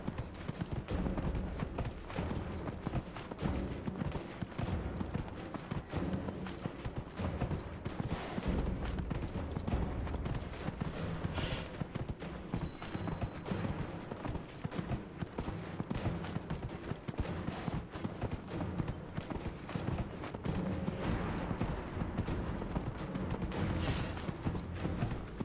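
Horse hooves trot in a video game set in the Hinterlands, a steady, rapid clip-clop rhythm carried over dense game background sound for the whole stretch.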